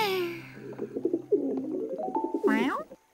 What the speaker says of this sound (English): Oh, silly me. It's only an owl.